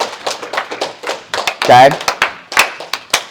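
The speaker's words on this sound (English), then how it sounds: "Okay, round of applause for these three." A small group of kids claps briefly for three classmates in a youth athletes' practice session, the sparse, uneven claps landing close by as an adult voice talks over them.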